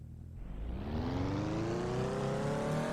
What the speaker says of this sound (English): the ARC MF16 is what we're driving, and let's just do a couple of quick laps